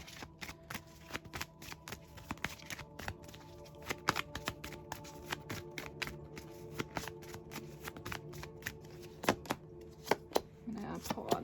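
Tarot cards being shuffled in quick, crisp riffles and taps, a dense run of sharp card snaps close to the listener with no speech over them.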